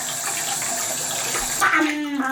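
Tap water runs steadily while hands are washed, a close, constant splashing hiss that shifts partway through as the flow is disturbed.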